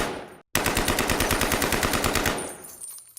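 An AK-47 fires a long sustained burst of more than thirty rounds during a roadside ambush on a car. The shots come as loud, rapid, evenly spaced cracks that run for about two seconds after a brief gap, then trail off into echo.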